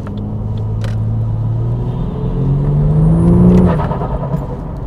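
A Ford XR6 drives along with a steady low engine rumble and road noise, the engine note rising slightly as it picks up speed, close and loud throughout.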